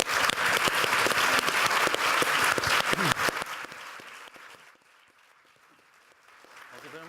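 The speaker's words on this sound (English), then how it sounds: "please applaud" Audience applause after a panel session, dense and loud for about three and a half seconds, then thinning to a few scattered claps and quiet room tone.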